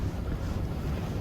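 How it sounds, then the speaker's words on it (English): Strong wind gusting across an open mountain road, a steady loud roar buffeting the microphone with low rumbling throughout, no voices. "It is still really windy out."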